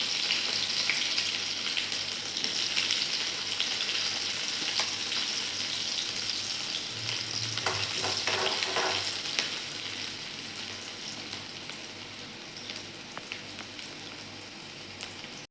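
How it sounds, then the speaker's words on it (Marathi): Green chilies fry with mustard seeds in hot oil in a kadhai, giving a steady, soft crackling sizzle with faint pops, close but fairly quiet and fading slightly toward the end. "मिरची व्यवस्थित तळली गेली आहे."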